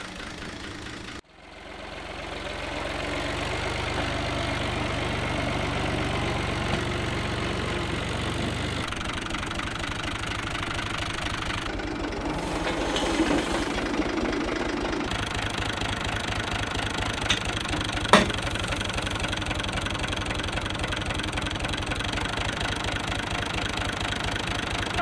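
A UTB 445 tractor engine idling steadily and loudly throughout, with a sharp knock near the start and a brief click later, no voices.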